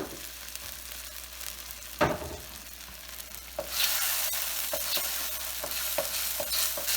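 Sambal chili paste fries in a pan for fried rice, with a spoon knocking and scraping at first. A loud, bright sizzle then bursts up and holds steady, broken by occasional stirring taps.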